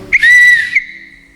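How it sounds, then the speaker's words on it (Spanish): A single shrill whistle blast, loud and close, held for about half a second before cutting off with a short fading tail. "Simplemente una cosa de estas. Un silbato, un sonido"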